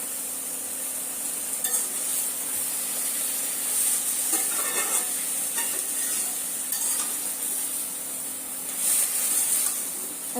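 Leafy greens frying with salt, onion, garlic and green chili, a quiet steady sizzle broken by several bursts of stirring and hissing spread across the stretch.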